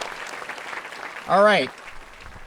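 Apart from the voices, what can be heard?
audience applause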